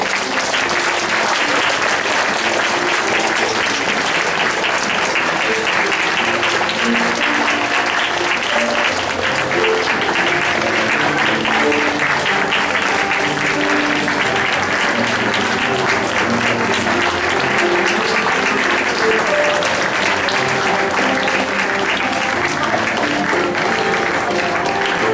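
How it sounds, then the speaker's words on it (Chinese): A church congregation claps steadily and loudly for about twenty-five seconds at a Taiwanese-language baptism service, a dense, even roar of many hands with no pauses. "来大家来鼓掌。"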